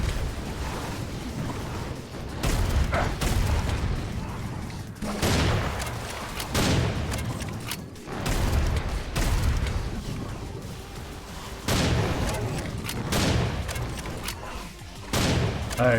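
Repeated bursts of gunfire in the Serious SamCraft game, loud and close, coming in irregular clusters with booming impacts and mechanical clatter between them.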